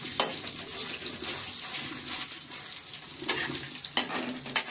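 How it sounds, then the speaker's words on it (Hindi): Bhat black soybeans roasting with onion in a pan over low heat, with a soft continuous sizzle and occasional crisp scrapes and clinks of a stirring spoon, close by and with no voices. "ये भट भून रही है मेरी मम्मी"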